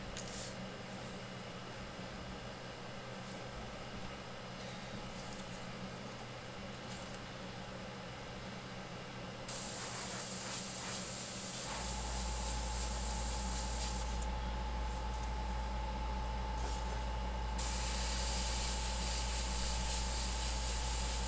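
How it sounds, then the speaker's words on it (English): An airbrush hisses paint over a stencil on a Loki skull, a continuous airy spray that grows louder and brighter partway through as a low compressor drone kicks in beneath it, with no talk. "A lot of times I paint on the stencil and let the overspray cast off."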